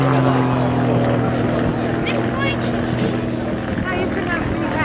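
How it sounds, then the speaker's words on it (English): Aerobatic aircraft engine during a stall turn at the Shoreham RAFA Air Show, a droning propeller hum at a distance whose pitch holds steady and then slightly drops, under an announcer talking over a loudspeaker. "Engine constant speed drop, you can hear it"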